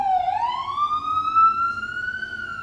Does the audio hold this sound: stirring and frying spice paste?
no